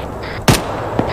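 Artillery rounds fire in the military video game Arma 3, two sharp booming reports about half a second apart, the first louder, over a steady background rumble.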